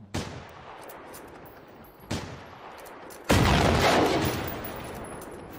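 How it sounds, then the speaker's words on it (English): Three gunshots from the video game Generation Zero ring out at irregular intervals. The first two are moderate cracks, and the third is much louder and booming, with a long, decaying echo. "I keep shooting it."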